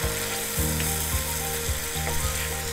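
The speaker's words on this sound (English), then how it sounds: "Oh, I don't know if you can hear this, but it's sizzling so nicely." Pepper paste sizzling and frying in a pan as a base for fried fish with Portuguese molho de vilão, a steady close crackling hiss with faint rhythmic scraping or stirring, no talk.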